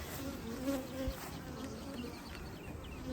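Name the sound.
honey bees buzzing at a hive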